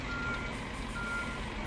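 Truck reversing beeps in a trucking video game, a steady electronic tone repeating over a low engine hum while the truck backs up, fairly quiet.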